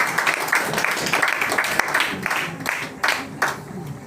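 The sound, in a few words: congregation applauding in church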